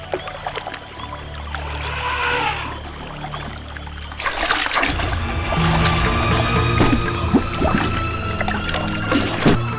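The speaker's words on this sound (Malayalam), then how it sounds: "ആന വെള്ളം കുടിക്കുന്ന ശബ്ദം പോലെ" An elephant drinks from the Sarayu river in a forest setting: splashing, pouring and trickling water close by, soft at first, then a louder churning surge midway that carries on steadily to the end.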